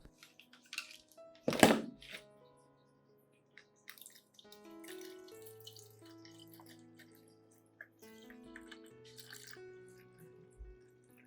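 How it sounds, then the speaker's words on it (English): A plant-reviving solution trickles and gurgles into a spray bottle, rising in pitch as it fills, with a sharp clatter near the start and soft background music. "First, pour the solution into a spray bottle."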